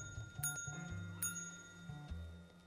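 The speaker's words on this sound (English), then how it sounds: "Can we ring the bell?" Hotel reception bell rung twice in the horror video game Dark Deception, two bright metallic dings with ringing overtones standing out clearly over a low, droning game soundtrack.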